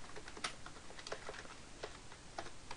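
Keystrokes on a computer keyboard, a quiet run of irregular clicks with a few sharper taps, close by and alone with no talk.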